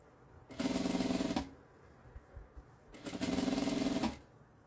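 A sewing machine runs two short stitching bursts on fabric, sewing small pleats for a small bag that holds a clothes iron. Each burst is steady and close and lasts about a second, with quiet handling noise in between.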